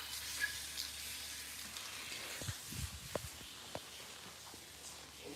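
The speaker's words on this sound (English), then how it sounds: "Rasmus here washing his hair." Water from a tap runs and splashes softly as a person's hair is rinsed, a low steady flow with a few brief handling sounds and splashes, heard alone.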